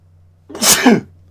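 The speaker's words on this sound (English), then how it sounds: "I'm probably about to sneeze" A single sharp sneeze, close and loud, with a brief inhale before the burst.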